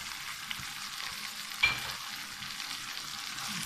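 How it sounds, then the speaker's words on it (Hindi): Green onions frying and sizzling in a pan of chicken jalfrezi, a steady soft hiss with a brief stir or clatter partway through, fairly quiet and with no voices. "ये हरी प्याज भी डाल देते हैं।"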